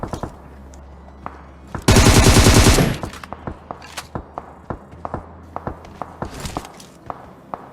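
Gunfire in PUBG: a dense automatic burst of about a second, loud and close, followed by a run of single sharp shots and footstep-like thumps spread out at varying distances.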